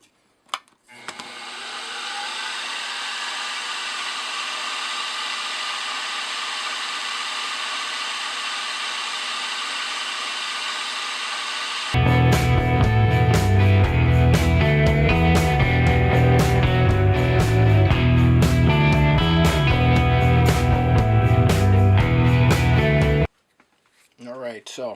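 A machine tool taking a fine cut in metal for a twin vertical wobbler cylinder: a steady motor whine runs for several seconds, then gives way to a loud, dense rattling cutting chatter that continues close up before stopping abruptly.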